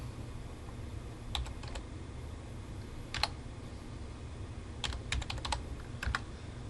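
Commands typed on a computer keyboard while drawing in CAD, quiet scattered keystrokes in short clusters, the fastest run of taps coming near the end over a low hum.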